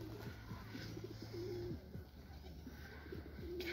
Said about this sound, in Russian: Так, голуби кушают.